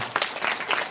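A brief burst of clapping comes from attendees at a citizens' briefing on a city bus strike in Jinju, a short, uneven patter of many hands.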